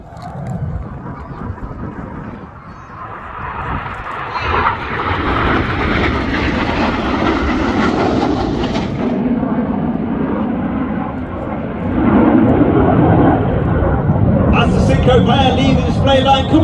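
Red Arrows aerobatic jets at an air festival display, a loud roaring engine rumble swelling as they pull up and pass, with a public address commentator talking over it throughout.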